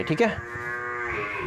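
Cows and buffaloes moo from outside on a farm: one long, loud, drawn-out low moo that carries on after a brief spoken word.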